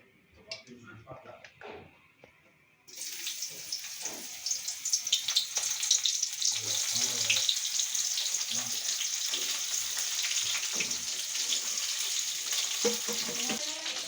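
Sliced onions drop into hot oil after a quiet start, setting off a loud, steady sizzle that keeps going to the end, with light stirring clatter and brief speech early on.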